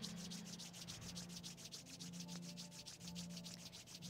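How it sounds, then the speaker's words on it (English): Palms rubbed together steadily during a seated yoga practice, a continuous soft brushing friction with quick rhythmic strokes, close and fairly quiet, with no talking. "rub your palms."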